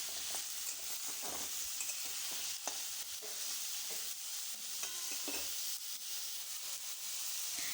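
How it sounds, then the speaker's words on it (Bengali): Potatoes and onions cut together fry in hot oil in a pan, a steady loud sizzle running throughout with intermittent scraping stir strokes and a few brief clinks, no voices. "আলু আর পেঁয়াজ একসঙ্গেই কেটে রেখেছিলাম, আমি একসঙ্গেই ভেজে নেব খুব ভালোভাবে"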